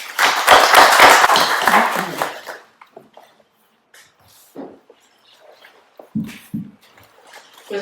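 Audience applause at an academic ceremony, a dense burst of many people clapping for a few seconds that fades out, followed by quiet room noise, small clatters and faint voices.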